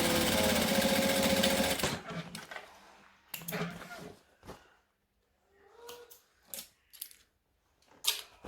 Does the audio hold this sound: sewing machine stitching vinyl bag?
yes